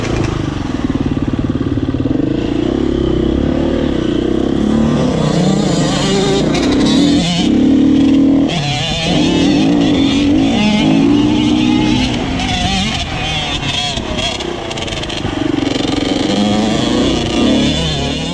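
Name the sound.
Yamaha YZ85 dirt bike riding on motocross track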